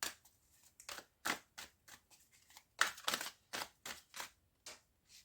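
Tarot cards are handled during a reading, giving a run of crisp, close paper snaps, flicks and slides with uneven rhythm and quiet gaps between them, with no voice.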